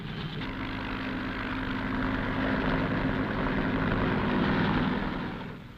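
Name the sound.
helicopters flying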